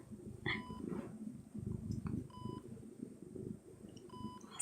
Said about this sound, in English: I guess I'm the kind of person that enjoys like hospital sounds